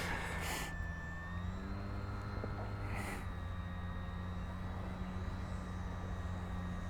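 A Durafly Gloster Gladiator RC model biplane flies overhead, its electric motor giving a faint, sustained whine that rises and shifts in pitch as it manoeuvres, over a low background hum, with brief wind bursts at the mic.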